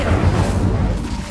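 An Incendio fire spell cast in Hogwarts Legacy gives a loud, dense, rumbling burst of flame that roars steadily for about a second, close and alone.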